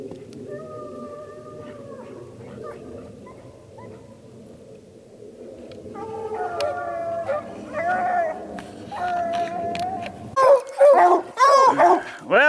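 Hunting hounds bark and bay at a bobcat treed in a big fir in Colorado, starting as distant muffled baying and growing into loud, close, rapid barking with whimpers.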